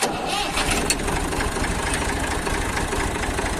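A Massey Ferguson 240 S tractor's diesel engine cranks and catches, then settles into a steady, loud, close rumbling idle with a rapid, even knock.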